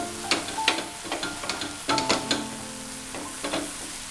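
Cabbage thoran stir-frying in a pan, with a soft sizzle broken by repeated scraping and stirring strokes of a spoon, close and clear with no talking.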